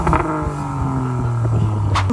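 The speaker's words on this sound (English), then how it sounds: "it's got a Miltech catback exhaust, non-resonated, so it makes a really, really nice noise" A Toyota GR Yaris with a non-resonated Milltek catback exhaust revs hard with a deep, throaty exhaust rumble, loud and close, rising in pitch with a brief sharper burst near the end.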